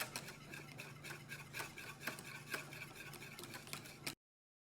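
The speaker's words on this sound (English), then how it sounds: "Keep stirring it, and the second it starts to boil, it's going to thicken to the consistency of porridge." A spoon stirs custard mixture in a pot on the stove, scraping and ticking against the metal in a steady, quick rhythm of faint clicks, close up with no speech.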